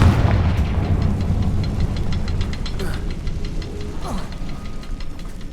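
Fiery blasts of the Confringo spell burst in the Hogwarts Legacy video game, dull booms sitting in a loud, dense rumble of game sound with steady crackling texture throughout.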